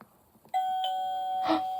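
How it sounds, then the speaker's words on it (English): A two-tone ding-dong doorbell chime from a children's sound book rings out clearly and alone, a bright first tone followed by a sustained lower tone that rings on. "Ding dong! Oh no, someone is ringing the doorbell."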